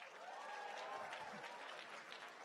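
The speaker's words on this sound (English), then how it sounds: "Applaud if you're a sibling." Brief, fairly faint clapping from siblings of graduates in the audience at a college commencement ceremony, with a murmur of voices underneath.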